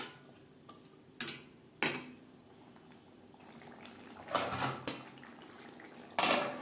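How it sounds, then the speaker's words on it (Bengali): Chana masala with spices stirred in a pan over medium flame, a spoon scraping and knocking against the metal in a few distinct clinks and short scrapes, spaced out over a quiet background. "মশলার সাথে বেশ ভালো করে মিক্স করে দেব"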